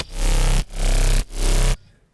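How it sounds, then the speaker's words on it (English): A heavy bass from a mid-tempo drop hits loud and alone in three long, saturated swells, each cutting off sharply before fading out at the end. "what you heard in the drop, this heavy like bass sound"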